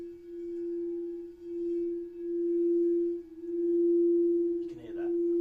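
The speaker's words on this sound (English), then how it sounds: "the two notes will be like bumping up against each other, and you get like this wob wob wob sound" Two steady sine wave tones sit close in pitch, beating against each other in a slow, smooth wob-wob pulse of swelling and dipping loudness, heard alone.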